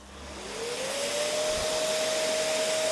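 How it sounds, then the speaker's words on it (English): An orbital sander running on low speed with 800 grit paper, used on a handmade guitar pickguard, spins up into a steady, fairly loud whirring hum that holds evenly, with no talking over it. "this is an orbital sander"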